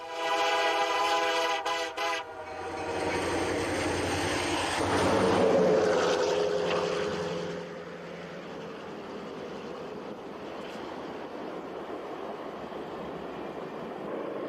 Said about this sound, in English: This is the newest, most powerful, and most expensive locomotive working the head end for Via Rail.